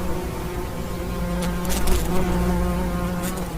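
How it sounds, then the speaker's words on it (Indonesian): A swarm of thousands of honey bees buzzes loud and close, a dense steady drone that swells for a moment partway through, with no voices. "ribuan lebah sudah hinggap di kepalanya"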